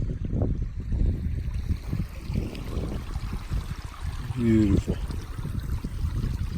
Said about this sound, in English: There's water right there coming out of the rock and those plants in my bag. Just flowing under the rock, coming right out here.